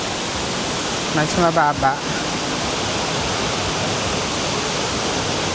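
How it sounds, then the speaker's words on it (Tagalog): The Shifen Waterfalls in Taiwan give off a steady, broad roar of falling water that fills the whole clip, with a brief stretch of talk near the middle. "Wow! So beautiful. The Shifen Waterfalls."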